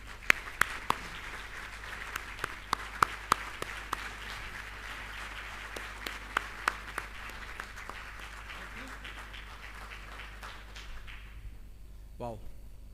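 Audience applause greets the Vice President of ICAI as he comes on stage at an international accountants' conference in Bahrain, a steady moderate clatter of many hands with a few sharper claps, fading out near the end.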